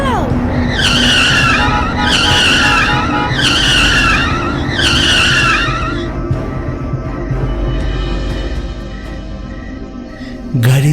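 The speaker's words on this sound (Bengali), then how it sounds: "গাড়ি চালাতে চালাতে হঠাৎ জোরে ব্রেক কষে দাঁড় করে দিতে হলো।" A car braking hard and skidding, a series of four loud, close, screeching tire squeals in a repeating pattern over a constant engine and road roar, fading into a steady rumble before a final sharp thump.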